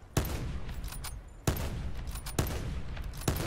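Video game gunfire rings out in four sharp, loud shots spaced about a second apart, each snapping in with a broadband crack over a steady background rumble.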